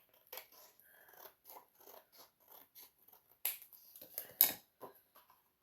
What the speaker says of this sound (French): j'y vais à la paire de ciseaux